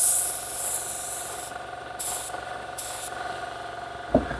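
A budget spray gun lays sealer onto a car body in short bursts, three brief hissing sprays separated by pauses, close and fairly quiet.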